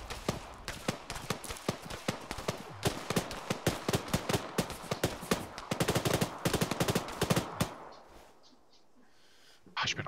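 Rapid bursts of gunfire in the military video game ArmA, loud and nearly continuous with dense overlapping shots for about eight seconds, then a brief lull before more shots close the clip.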